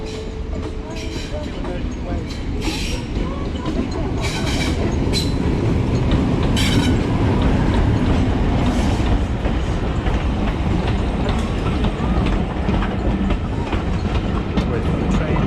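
Loud train rolling past close beside the Bristol and Bath Railway Path, its continuous rumble swelling and holding with clickety-clack wheel beats and faint squeal, while a cyclist's voice speaks briefly over it.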